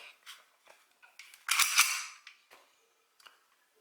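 An HK USP 40 pistol in .40 S&W dry-fired and reset, giving a few small sharp mechanical clicks with one louder snap cluster in the middle, close and alone with no talk.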